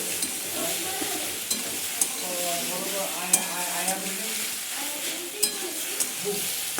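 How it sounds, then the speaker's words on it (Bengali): Steady sizzling of pasta sauce frying in a pan, with occasional clicks and scrapes of a spoon stirring throughout. "এবার একটু ভালো করে নাড়াচাড়া করে নেব, একটু ভাজা ভাজা করে নেব।"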